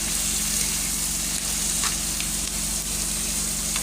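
Dried anchovy masala with onion, tomato and chili powder frying in a pan, a steady, close hiss and sizzle running unbroken and evenly loud throughout.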